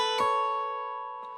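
A guitar plays a phrase from a song: one bright strum rings on and decays, then a softer pluck follows about a second later, with nothing else heard.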